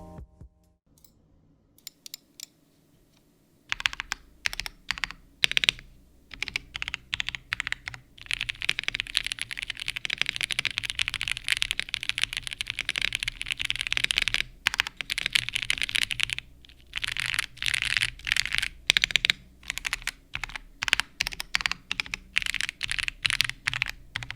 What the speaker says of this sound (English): For daily use, this keyboard was absolutely awesome to type on.